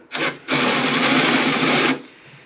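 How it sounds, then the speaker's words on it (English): A power drill whirs in a short burst, then runs in a longer steady grinding spell before stopping, close by, enlarging holes in Jeep SRT body panels for a splitter and side skirts. "gonna go ahead and start drilling these holes out a little bit bigger"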